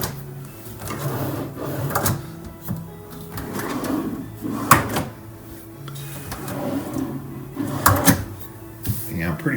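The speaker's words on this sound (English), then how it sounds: "Swinging door cabinet. I guess these are drawers." Wooden drawers and cabinet doors on IKEA-style furniture in a hotel bedroom slide and bump open and shut, several short knocks and scrapes spaced across the span, heard under someone talking nearby.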